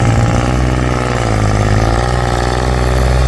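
A 2011 Kubota L3608DT tractor's direct-injection three-cylinder diesel runs at a steady idle, close and loud, a constant low throbbing rumble with no change in pace and no voices.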